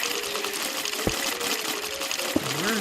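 Water flowing in Minecraft, a steady trickling wash of water running continuously with a couple of faint clicks and a soft tonal hum in the background.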